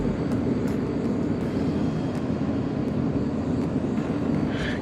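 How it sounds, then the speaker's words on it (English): Steady whirring hum of a fuel pump priming in a Mazda RX-7 FC3S with AN hardline fuel system conversion and ID F750 injectors, continuous and fairly loud with no voices over it. "Okay, the fuel pump should be priming."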